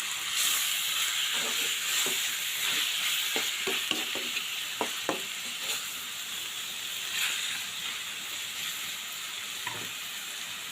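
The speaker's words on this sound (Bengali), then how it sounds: "আবারও আমি নাড়াচাড়া করলাম" Bathua greens fry in a pan and are stirred, giving a constant soft sizzle with a run of quick scraping and tapping strokes in the middle stretch, fairly quiet, with no speech.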